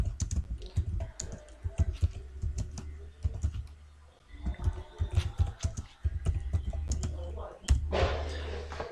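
Computer keyboard keys clicking in quick irregular bursts nearby, typing with short pauses and a soft low hum underneath.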